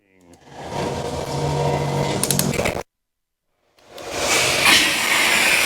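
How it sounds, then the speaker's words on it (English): Water spray rinsing a car at a coin-op car wash, a broad hissing rush that cuts off abruptly for about a second, then resumes strongly, close and loud. "So now we're going to do a very quick rinse"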